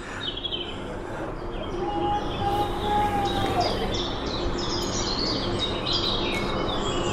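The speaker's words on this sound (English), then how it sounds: "Great bird sounds bringing us into the rainforest" Bright bird chirps and calls ring out in a rainforest over a steady background hum, with one sustained whistling note in the middle.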